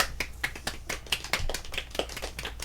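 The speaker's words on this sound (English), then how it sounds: "keep the clapping going" Scattered, fairly quiet clapping from a few people, sharp individual claps in an uneven rhythm with a low background hum.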